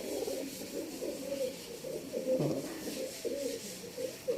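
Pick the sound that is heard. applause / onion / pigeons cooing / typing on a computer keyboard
pigeons cooing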